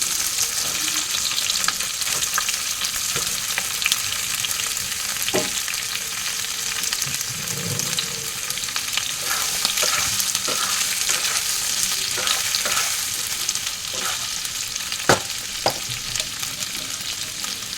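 Boiled potatoes fry in a pan with a steady, close sizzle, broken now and then by soft scraping stirs and a couple of sharper clicks against the pan.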